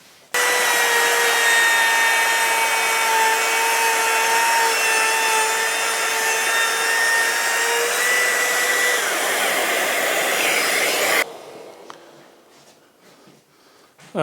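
A Trend 18V cordless router cuts into wood with a loud, steady high-pitched whine that holds for about ten seconds, then stops abruptly and leaves only faint handling noises, close up.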